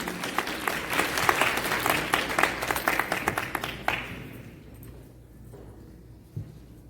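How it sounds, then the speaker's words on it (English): Audience applause at an annual community dinner for the Human Development Foundation Chicago chapter: lively clapping for about four seconds that quickly dies away into quiet room noise with a stray clap or two. "Can we give her a round of applause?"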